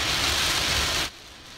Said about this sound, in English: you can see the rain hammering down on the highway